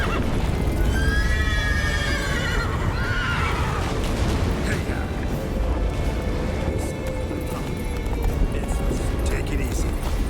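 A horse whinnies loudly near the start in The Witcher 3: Wild Hunt, followed by a rumbling, busy game soundscape with hoofbeats and movement throughout.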